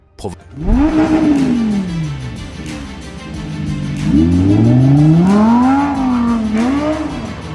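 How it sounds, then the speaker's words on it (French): Car losing control and running off the roadside, heard as a loud revving engine that rises and falls in pitch with tyre squeal, ending in a harsher, louder stretch of strained engine noise. "Une voiture perd le contrôle et s'écrase sur le bas-côté de la route"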